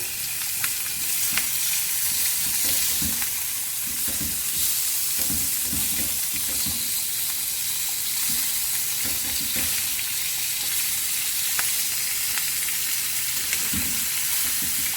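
Rosemary and garlic marinated lamb chops sizzle steadily and loudly in a hot pan for the whole stretch, with a dense continuous frying hiss and occasional small pops and knocks as the chops are laid down.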